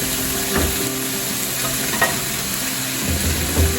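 Sliced courgettes are added to a hot frying pan of vegetables and stirred, loud continuous sizzling close up with intermittent scraping and clinking stirs, no talking.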